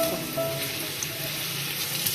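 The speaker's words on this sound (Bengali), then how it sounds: "বেশি তো ভাজছি না আলুটা" Potatoes frying gently in a pan for a Bengali aloo dum, a soft steady sizzle close by with faint clinks, no talking.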